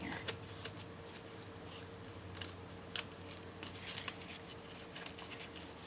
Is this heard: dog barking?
no